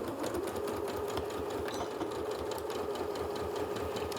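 A sewing machine stitches a fabric face mask, running at a fast even rhythm under the start-stop button rather than a foot pedal, close and steady throughout with no talking.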